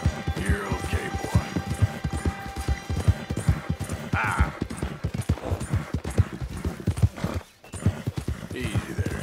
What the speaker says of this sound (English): Sometimes the horse does things I don't want him to do